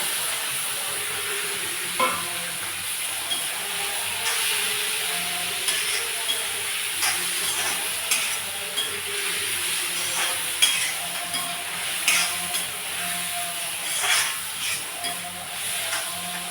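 Onions and tomatoes sautéing in a pan for an egg gravy (muttai kulambu) in a home kitchen, a steady close sizzle with scattered soft stirring scrapes and taps throughout, no voices.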